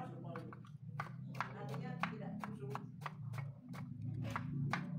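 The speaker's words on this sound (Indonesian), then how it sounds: "Terongnya kita iris-iris tipis-tipis." A knife cuts thin slices of eggplant on a board, making a quick irregular run of soft, crisp taps over a steady low hum, with someone speaking alongside.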